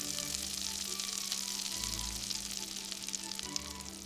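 Butter sizzling in a pan still hot from searing salmon, a steady dense crackle and hiss with a soft low rumble underneath, no voices over it.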